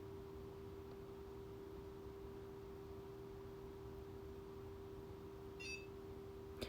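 Beep from a handheld face firming device: one short, high, faint tone near the end, over a steady low electrical hum and hiss.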